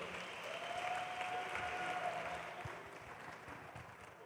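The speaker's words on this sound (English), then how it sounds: "Please give him a huge round of applause." An audience at a youth empowerment week event applauds a speaker, steady clapping of a sizeable crowd at moderate level that holds for several seconds and slowly tapers off.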